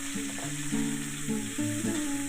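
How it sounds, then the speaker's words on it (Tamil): Tomato sautéing in a pan for red rice aval upma gives a steady, soft sizzle with light stirring. A tonal melody plays over it throughout. "இந்த தக்காளியும் வதக்குங்க இந்த மாதிரி நல்லா வதக்கி விட்டுருங்க"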